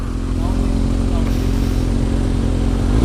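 Kawasaki Ninja 636 with an Akrapovic exhaust and quick shifter, its engine droning loud and continuous close by as it accelerates, with rider voices partly under the engine noise.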